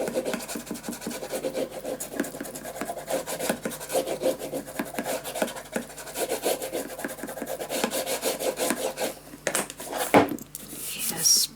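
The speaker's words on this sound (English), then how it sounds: "And then just fold this inside and burnish it down." Folded paper rubbed and burnished flat by hand for a scrapbook mini album, a steady close rasping scrape with quick repeated strokes running throughout, a brief louder knock near the end.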